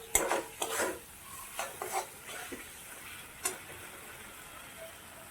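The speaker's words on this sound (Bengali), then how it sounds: "এইভাবে মশলাটা কষতে থাকবো।" A spatula stirs and scrapes a thick masala frying in a pan for a potol and prawn curry, several quick scraping strokes at the start and a few more later over a faint sizzle.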